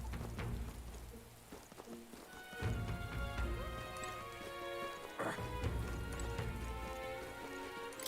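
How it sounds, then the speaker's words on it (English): Rain falls steadily in the video game Metaphor: ReFantazio, a continuous patter with a few louder knocks and tonal ambient sounds mixed in. "It's raining"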